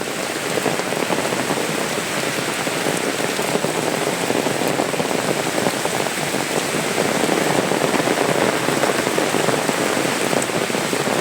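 Steady heavy rain pours down without pause, a dense, even hiss of drops close by with no voices over it.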